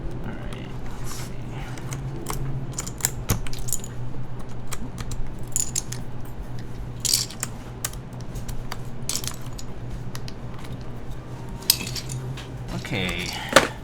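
Keycaps are pried off a mechanical keyboard, producing scattered sharp plastic clicks and light clattering taps at close range, irregular and continuous throughout.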